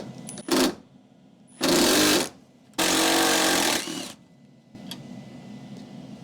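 13mm bolts being removed from a 2019-plus fifth-generation Ram truck front fender, with three loud bursts of a power tool spinning, the longer ones lasting over a second, separated by quieter pauses.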